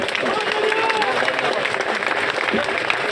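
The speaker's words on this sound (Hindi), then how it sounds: "जोरदार ताली बजा दो।" A crowd at a workers' protest bursts into dense, sustained clapping throughout, close and loud, with faint voices mixed in.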